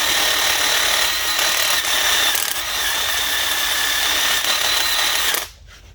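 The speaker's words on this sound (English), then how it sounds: "quick rundown with the wire brush, wire wheel" A wire wheel cleans the front brake hub mating surfaces on a 2019+ Mercedes Sprinter 2500, producing a loud, continuous abrasive whir and scratch that cuts off abruptly just before the end.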